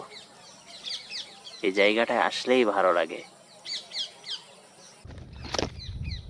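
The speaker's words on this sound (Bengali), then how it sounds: "এই যে আমার মাথার উপরে যে আম গাছটা দেখছেন এখানেও কিন্তু টিয়া আছে অনেকগুলো ডাকছে" Many parrots calling from a mango tree beside a recently harvested paddy field, scattered short chirps and squawks near and far, with someone speaking over them partway and a brief rustle or bump near the end.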